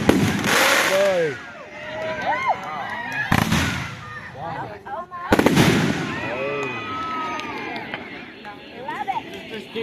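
Fireworks sold as flashbangs go off in three loud, sharp bursts, each followed by crackling and fading echoes, while a crowd chatters and calls out nearby.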